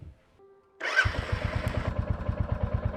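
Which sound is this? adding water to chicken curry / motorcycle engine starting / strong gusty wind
motorcycle engine starting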